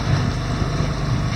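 A sailboat motors under engine power on a Maine cruise, with a steady low engine drone and rushing wind and water noise that continue evenly throughout.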